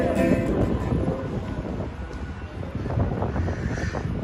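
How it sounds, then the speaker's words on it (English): Wind buffeting a microphone outdoors on Broadway in Manhattan on a breezy day, a steady rumbling roar that swells and eases slightly throughout, with no talk. "As you can hear, a little windy, a little breezy today"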